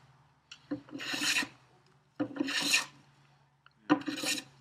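A hand plane shaving the wooden top of a carpenter's workbench, three long rasping strokes at close range with short pauses between them, each pass starting with a sharp bite and ending in a soft scrape.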